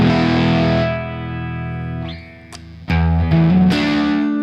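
Electric guitar through a fuzz pedal, a heavily distorted chord ringing out and decaying, then with the guitar volume rolled back it cleans up into brighter, sparkly strummed notes, close and loud with no talking.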